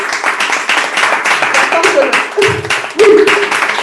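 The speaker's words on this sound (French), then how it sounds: "Si vous avez 2 mains, alors applaudissez" Audience applause at a Toastmasters club session, loud rhythmic clapping with a voice speaking over it partway through.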